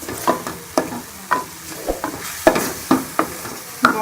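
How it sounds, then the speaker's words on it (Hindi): Spices roasted in a pan for corn masala, with sharp intermittent spoon taps and scrapes against the pan over a light sizzle, close and with no talking. "ये सारे मसाले इसके अंदर डाल के मसाले को अच्छी तरह से भून लेंगे"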